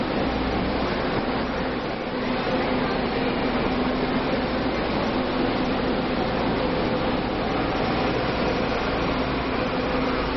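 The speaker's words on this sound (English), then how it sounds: "The reason the train is so packed now is that the next stop is without a doubt one of the more popular ones on the line." Steady rumble and whir inside a crowded passenger train in Taiwan, with a continuous low drone of wheels and ventilation, constant and close throughout with no talk standing out.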